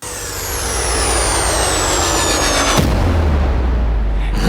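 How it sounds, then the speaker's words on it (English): A whistling bomb-drop firework effect in a music mix: a long, loud falling whistle glides down for nearly three seconds, then gives way to a heavy low rumbling boom that carries on to the end. "that little whistle, was that a bomb dropping? It was like a firework"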